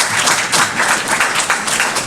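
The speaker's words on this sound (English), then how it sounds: "Could you give the bank a round of applause?" An audience applauding at a formal announcement in St. Kitts, a loud, close burst of many hands clapping in a dense, steady patter throughout.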